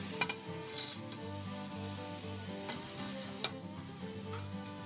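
Zucchini and chicken are added to a pot of homemade chili, giving faint stirring scrapes and a low simmering sizzle with a few sharp utensil clicks against the pot, with no talking.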